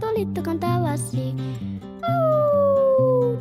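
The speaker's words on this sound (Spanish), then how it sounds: "No, Bartolito, ese es un lobo" A wolf's drawn-out howl, sliding slowly downward, rises over the bouncy backing music of a children's animal-sounds song, loud and close, after a sung opening phrase.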